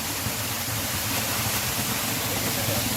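Water tumbling down a waterfall in the Konkan makes a constant broadband roar, even and close, with no other sounds standing out.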